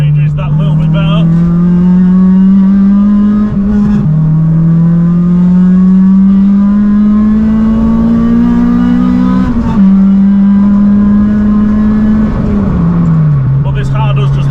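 A caged Honda Civic with a short shifter drones loudly on a country road, its engine note rising in steady pulls and dropping sharply at each of several gear changes, while someone talks throughout.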